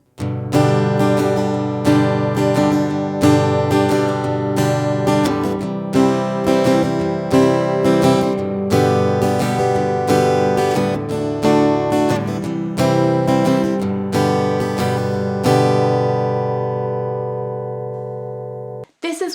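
A G-major blues progression is played in 12-bar style as a brisk, rhythmic run of repeated chord hits that keep a steady pulse, then closes on a final sustained chord that fades out, with no voices.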